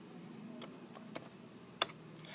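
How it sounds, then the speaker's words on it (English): A few sparse, quiet clicks of keys on a computer keyboard as a DIR command is entered into DOS, with faint room hum behind them. "we type in DIR."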